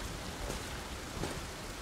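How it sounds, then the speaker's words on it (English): Rain falls in the spy strategy video game Phantom Doctrine, a dense steady patter with a couple of slightly louder gusts and no voices. "and it's raining"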